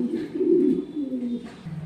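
Pigeons in a loft give low, throaty coos, a few rolling calls close by with soft overlapping murmurs and no talking.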